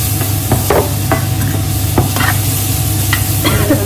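Ginger-garlic paste frying in a pan in an Indian home kitchen gives a steady close sizzle, broken by repeated scrapes and taps of a spoon stirring it, with no voices.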